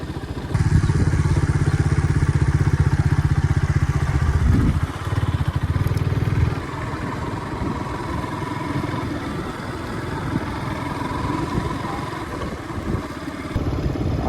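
A motorcycle engine runs steadily on a road trip to Delwada, a loud continuous drone with clattering rumble, strongest in the first six seconds and then slightly quieter but constant to the end.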